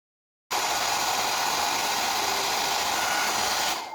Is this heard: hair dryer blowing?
yes